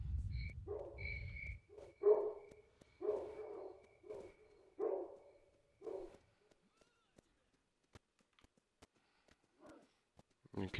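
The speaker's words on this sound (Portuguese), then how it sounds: "Aqui tem uns cachorros chato." Dogs bark repeatedly in the video game Stalker: Shadow of Chornobyl, a series of sharp, moderately loud yaps spaced about a second apart, then trailing off into faint scattered sounds.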